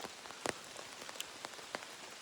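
Rain patters on a surface outdoors in Saxon Switzerland National Park in Germany, a steady hiss of drops broken by a few sharper, louder splats near by.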